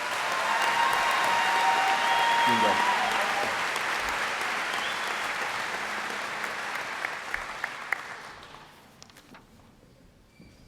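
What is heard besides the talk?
applause at a graduation ceremony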